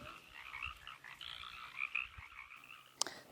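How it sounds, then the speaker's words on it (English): A chorus of frogs croaks from a vernal pool refilled by rain, a busy layered calling at moderate distance with a sharp click near the end and no talk. "This is a vernal pool that is home to thousands and thousands of frogs"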